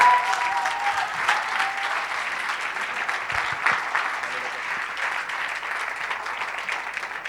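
Big round of applause for speaker Víctor Mochkofsky at a Día B Mar del Plata 2024 talk, sustained crowd clapping, loud and even from start to finish.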